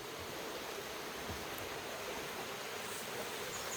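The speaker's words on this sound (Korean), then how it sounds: "이번에 만나는 폭포는 비룡폭포입니다" Biryong waterfall in a canyon rushes in a constant, even roar of falling water, a steady broadband hiss with no voices or breaks.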